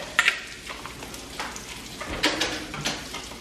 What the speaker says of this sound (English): I have to cook the steaks since I make it so mini in two different pots